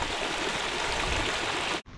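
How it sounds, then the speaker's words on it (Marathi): A diverted stream of water runs through a farm field, a steady close gurgling rush that cuts off abruptly near the end. "पाण्याचा प्रवाह डायव्हर्ट केला आहे"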